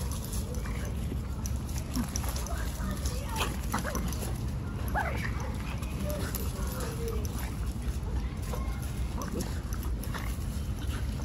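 Dogs bark, yip and whimper in short scattered bursts over a constant background hum, fairly faint, with someone talking throughout.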